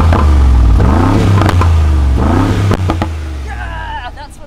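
A deep, loud truck engine revs repeatedly with a throaty exhaust roar through an opened exhaust in Sports Plus mode, rising and falling in pitch, then settles as a voice speaks briefly.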